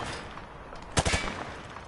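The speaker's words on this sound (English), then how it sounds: "He sprayed bullets all over the damn place." Hip-fired gunfire in Call of Duty: Modern Warfare 2: a quick burst of three or four sharp shots around the one-second mark, standing out from a low background hiss.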